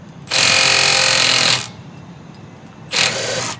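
Milwaukee M12 Fuel 3/8-inch stubby impact wrench breaking a bolt loose, with a loud, close rapid hammering burst of over a second, a pause, then a second shorter burst.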